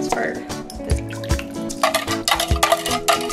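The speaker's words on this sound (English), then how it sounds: "We're gonna whisk this up a little bit." Quick clinks and scrapes of a whisk stirring salad dressing for a low carb broccoli salad in a bowl, irregular and close, with music playing underneath.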